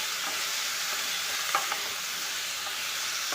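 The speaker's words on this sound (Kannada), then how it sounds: "ಮುಲ್ಲಂಗಿ ಫುಲ್ ಕೆಂಪು ಕಲರ್ ಬರಬೇಕು, ಸ್ವಲ್ಪ ಅಲ್ಲಿವರೆಗೂ ಫ್ರೈ ಮಾಡ್ಕೋಬೇಕು" Radish sizzles in a pan for radish chutney, a soft, even frying hiss throughout with a couple of faint stirring clinks near the middle.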